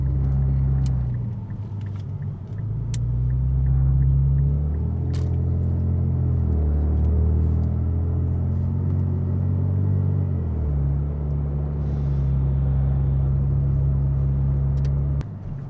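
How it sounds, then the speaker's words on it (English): Tuned Infiniti Q60 twin-turbo V6 on E85 with gutted stock turbos, heard from inside the cabin with the sunroof slightly open: a steady deep exhaust drone that rises and falls in pitch through gear changes, with faint clicks over it. "you'll still be able to hear the exhaust pretty well"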